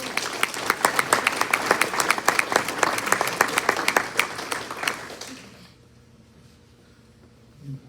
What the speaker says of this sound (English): Let's give all of our employees a round of applause for all they do.